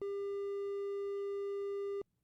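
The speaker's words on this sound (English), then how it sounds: "And finally, a triangle wave," A synthesized triangle wave sounds as a smooth, mellow, nearly pure steady tone, clear and alone, lasting about two seconds before ending abruptly.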